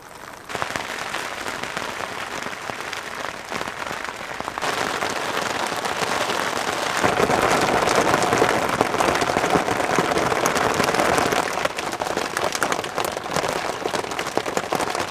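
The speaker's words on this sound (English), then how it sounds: "as you can probably hear, it's still blooming raining" Heavy rain pours steadily onto a car parked on a swing bridge, making a dense, loud, continuous hiss and patter that swells slightly partway through, with no voices.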